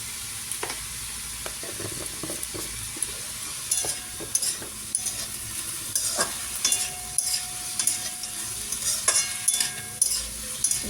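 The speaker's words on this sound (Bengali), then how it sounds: "সব একসাথে ভাজবো এটা" Bottle gourd peel and potatoes with salt and turmeric fry in a pan, giving a constant hiss of sizzling while a spatula scrapes and stirs in irregular, close clatters.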